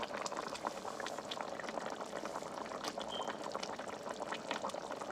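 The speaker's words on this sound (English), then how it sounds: "You could actually hear it sizzling." Arrabiata sauce sizzling in a pan over a burner set to high, a steady, fairly quiet crackling hiss with dense tiny pops running evenly throughout, no voices.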